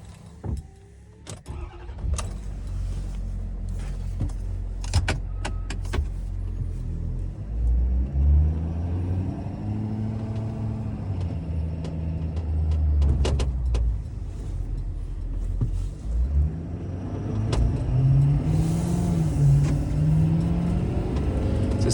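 A 2015 Ford F550 with a 6.7 Powerstroke diesel idles with a steady low rumble, then revs in a few rising and falling swells, with scattered clicks and knocks around the truck.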